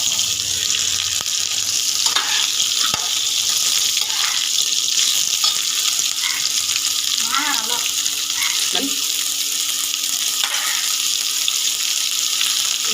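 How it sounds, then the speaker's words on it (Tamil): Raw mango pieces go into a pan already holding mustard seeds, urad dal, dried red chillies and green chillies, giving a loud, continuous sizzle with small crackles and occasional stirring scrapes throughout. "இப்போ மாங்காவை சேர்த்துக்கலாம்."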